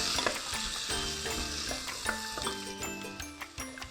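Vegetables for an autumn vegetarian couscous sizzle steadily in a pan while being stirred, with a constant frying hiss broken by repeated scrapes and knocks of the utensil against the pan.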